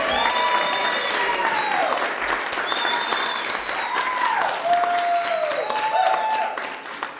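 A crowd of about 1,000 people at a stone showroom grand opening applauds steadily throughout, a dense wash of clapping with scattered whistles and a few voices rising through it.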